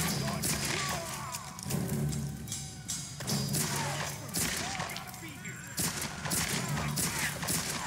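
Rapid bursts of gunfire from Lara Croft's weapon in a Tomb Raider firefight, dense repeated shots and thuds running throughout, loud and busy, with a player's voice talking over the action.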